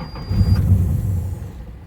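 A 1984 Nissan 300ZX Turbo engine catches for a moment, a loud low rumble that swells and then fades out over about a second.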